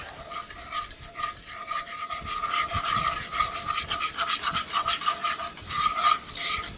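A spoon scrapes and rasps steadily across the bottom of a pan as roux for squirrel gravy is stirred constantly, sounding close and continuous with a light sizzle underneath and no speech.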